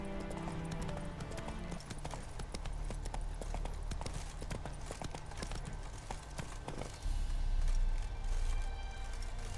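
A horse ridden in The Witcher 3 clip-clops along in a steady rhythm of hoofbeats, with a louder rumble of movement near the end.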